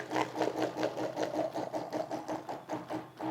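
A litchi juice bottle filling and sealing machine runs with a fast, regular mechanical chatter, close and steady for a few seconds, with no voices.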